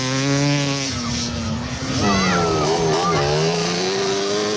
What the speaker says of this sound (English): Another of the Banshees comes flying through.